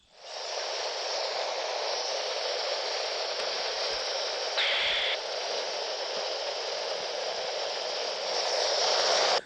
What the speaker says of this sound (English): Oh yeah, I can almost barely hear you already in the static.